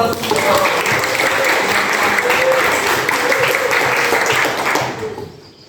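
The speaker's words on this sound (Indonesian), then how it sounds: "Ya, tepuk tangan dulu." Classroom students applauding together at the end of a school lesson, a steady, sustained round of clapping lasting several seconds before fading out.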